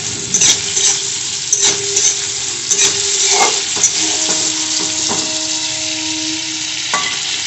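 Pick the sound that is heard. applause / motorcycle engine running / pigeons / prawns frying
prawns frying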